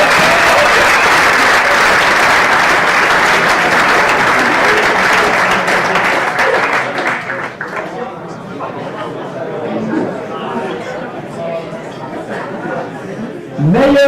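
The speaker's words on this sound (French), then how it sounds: "On peut applaudir." Crowd applauding at a junior ice hockey awards ceremony, loud continuous clapping that fades after about seven seconds into room chatter and a speaker's voice.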